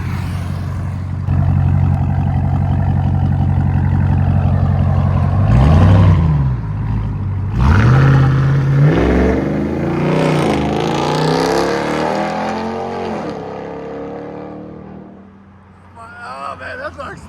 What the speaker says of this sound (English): Oh, it sounds like a truck